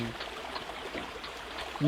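Water of the Khlong Chang waterfall in a cool, mountainous Thai national park rushes in a steady, dense wash of noise that stays fairly even throughout.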